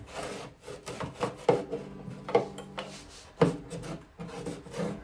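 A wooden cleat being rubbed into place inside a 1950s Musima Emperor archtop guitar during repair, giving close, uneven scraping strokes of wood on wood with a few harder knocks between them.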